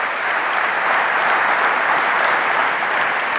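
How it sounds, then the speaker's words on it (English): Steady, dense applause fills a large hall during an SAP Sapphire keynote in Orlando, loud and even throughout without any speech on top. "I thought I wouldn't need to prompt an applause for this one."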